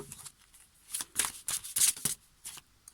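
A deck of tarot cards is cut and shuffled up close, giving a quick run of crisp papery riffles and flicks that come in uneven bursts with brief pauses between them.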